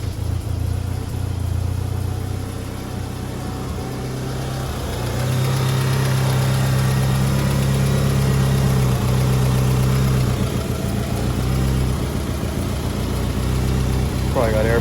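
A 1998 Talon car engine cranks and catches, then settles into a steady, loud idle with a low rumble that rises slightly partway through; someone speaks over it.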